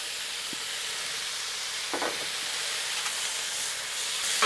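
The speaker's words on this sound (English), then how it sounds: "Let's throw down our bacon first, get it to frying up." Bacon sizzles and hisses on a hot Blackstone griddle, a steady crackling spray with a few soft clinks of a utensil.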